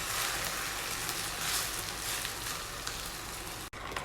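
Drumstick leaves (munagaku) frying in a pan, a steady close crackling sizzle with soft stirring scrapes throughout, briefly cut near the end.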